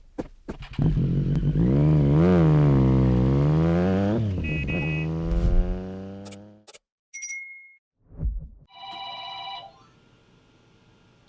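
A motorcycle engine revs up and holds a loud, rising drone close by while riding on a road, then cuts off, followed by a short bell-like electronic ring.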